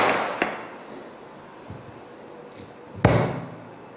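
Ghee Mysore pak being tapped out of its tray onto a plate: a few sharp, separate knocks, a light one early, a softer one in the middle, and a louder hard tap near the end, with quiet in between.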